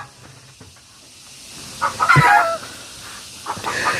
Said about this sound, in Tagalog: Itong haliparot na manok, ang ingay-ingay.